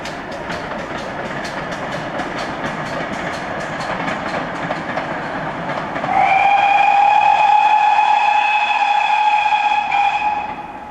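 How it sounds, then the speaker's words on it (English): A distant steam train on the Severn Valley Railway rumbles steadily, then a long, loud steam whistle sounds and holds for several seconds before fading slightly. "we can hear a train coming on the Severn Valley, up there in the distance"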